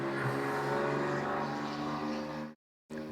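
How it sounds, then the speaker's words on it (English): Loud cars rumbling past outdoors, a steady broadband engine roar holding for about two and a half seconds before a brief cut, then resuming at the same level. "I don't know why there's so many loud cars today"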